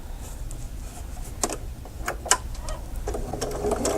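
A sewing machine stitches fabric along a clamshell template seam, a steady close mechanical whir with a few sharper ticks and a brief pause, running alone without talk.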